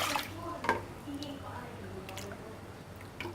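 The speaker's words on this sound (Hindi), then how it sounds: "इसमें 3 कप पानी डालेंगे।" Water splashes and trickles into a pan with a soft continuous pouring sound and occasional drips, set against a low steady hum.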